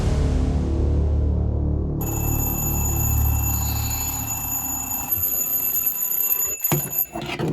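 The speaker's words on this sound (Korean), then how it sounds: "책상 위에 알람 시계를 두고 자겠습니다" An alarm clock set on a desk rings continuously with a shrill, sustained electronic tone that starts abruptly and keeps going, loud and close, before some rustling and shuffling near the end.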